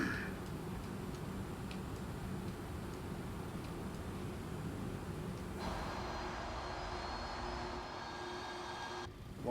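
MD-11F freighter jet engines in a flight simulator, a steady broadband whine and rumble during taxi, continuous and moderately loud with no talking.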